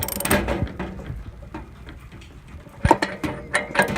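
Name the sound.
1/2-inch drive ratchet tightening an RV water heater anode rod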